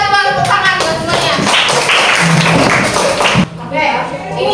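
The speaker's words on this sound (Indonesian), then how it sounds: "Coba tepuk tangan buat semuanya." Students in a classroom clap together in a short burst of quick, close hand claps, with a teacher's voice and chatter heard over and around it.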